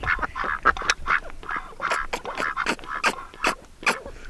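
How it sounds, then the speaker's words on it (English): Ducks kept on a farm quack by a backyard pool, a flock of two drakes and a hen calling in repeated nasal bursts, close and fairly loud with no talking. "Here are our ducks."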